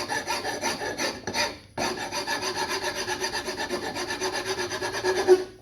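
A rasp scrapes wood off a take-down sleeve fitting in steady, rapid back-and-forth strokes, close and loud, with a short pause before the rhythmic filing resumes.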